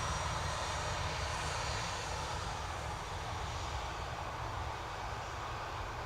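A Ryanair airliner arriving from Luton at Dublin Airport, its engines giving a steady, loud, broadband roar that holds evenly throughout without a break.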